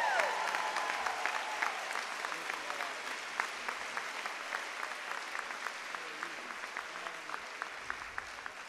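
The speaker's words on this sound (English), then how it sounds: "So let's give these 30-year recipients a big round of applause." An audience at a school district convocation applauds 30-year service award recipients, steady rhythmic clapping from a large room that stays fairly distant and even, with a few sharper individual claps standing out.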